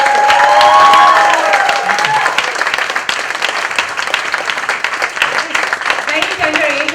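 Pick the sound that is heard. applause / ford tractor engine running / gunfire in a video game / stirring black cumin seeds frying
applause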